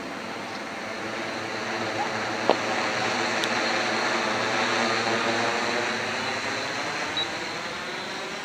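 A stretched HK X650F multirotor drone in flight, descending forward through its own propeller wash, gives a steady, broad whooshing rotor hum with wind noise that holds level throughout, with a faint click or two.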